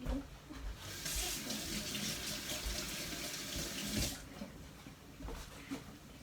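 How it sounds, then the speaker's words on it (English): A kitchen tap runs steadily as hands are washed beneath it after cracking eggs, a close, even rush of water with brief splashy changes as the hands move, ending with the flow cut off. "always make sure to wash your hands right after you crack the eggs"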